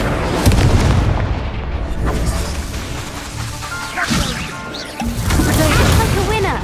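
Incendio fire spell cast in Hogwarts Legacy amid combat, a loud roaring blaze mixed with crashing impacts and booms, with a voice speaking over the clash.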